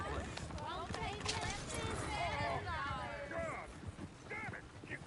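Horses' hooves in the video game Red Dead Redemption, a busy clopping of several galloping horses under excited talk from game characters.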